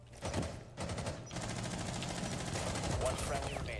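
Rapid gunfire in Rainbow Six Siege, shots punched through a wall, rattling as a dense continuous burst of automatic fire for several seconds, loud and close with heavy low-end thuds.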